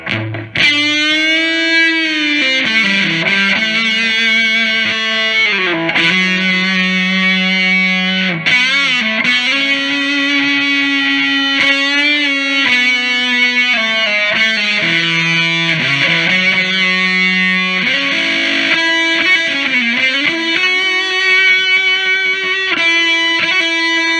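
An electric guitar runs through a fuzz pedal into a Toronto City Transit Delay Jr. pedal. Loud sustained distorted notes and slides trail dreamy ambient echoes, continuous and dense for the whole stretch.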